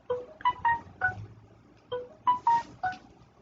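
A phone gives off a quick series of bright electronic tones, two short bursts of about four beeps each separated by a pause, clear and close in an otherwise quiet room.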